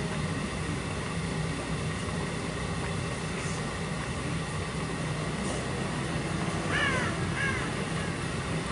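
Crows caw in the horror video game Dead by Daylight, a burst of several harsh calls near the end over a steady droning ambient background.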